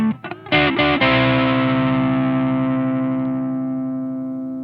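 Electric guitar played through a Duesenberg White Drive overdrive pedal with the tone knob turned fully right for extra treble: a few quick picked notes, then a loud bright distorted chord ringing out and slowly fading.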